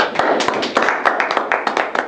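An audience at a small study meeting gives a short round of applause: a brisk, close patter of hand claps lasting about two seconds, with a faint voice underneath.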